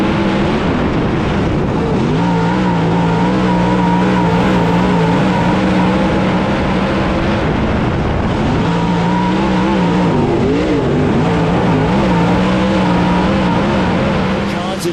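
Dirt track race cars at Whynot Motorsports Park roar down the back straightaway in a loud, continuous engine drone that rises and falls as they accelerate, with an announcer talking over the racing.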